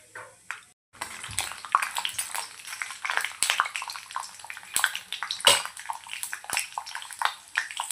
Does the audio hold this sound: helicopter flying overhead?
no